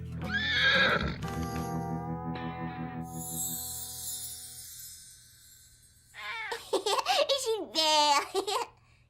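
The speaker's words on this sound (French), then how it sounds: "Salut le cheval." A horse whinnies loudly up close, a long descending neigh, then after a pause a second burst of high, quavering whinnies.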